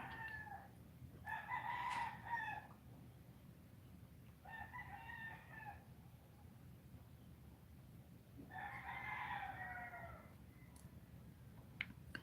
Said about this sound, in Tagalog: puro tilaok ng manok ang naririnig